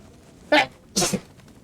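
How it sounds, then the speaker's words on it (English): A close sneeze: a short sharp intake followed by an explosive burst, heard clearly against faint background noise. "I'm gonna sneeze"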